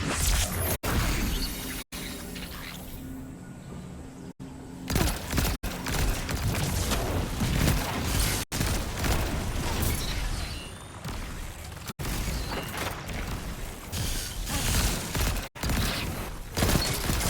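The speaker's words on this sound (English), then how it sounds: "Fucking grenade." Grenade blasts in Destiny 2 PvP sit within a dense, loud stretch of gunfire, crashes and whooshes that runs on with only brief breaks.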